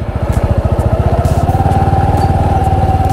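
A Bajaj Boxer 150 motorcycle engine chugs with a fast, even pulsing beat while riding a rutted winter forest road, loud and close throughout with no talk.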